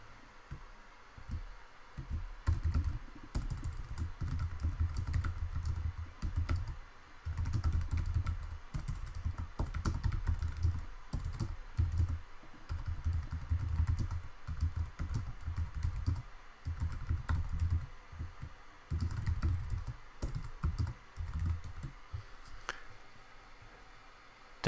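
Computer keyboard typing in quick, uneven bursts of clicky keystrokes with brief pauses between runs, steady and fairly close, with no voices over it.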